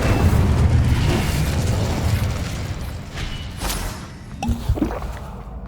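An Incendio fire spell is cast in the Hogwarts Legacy video game, a loud roaring whoosh of flame with rumbling booms that fades slightly, followed by a few brief pops and crackles.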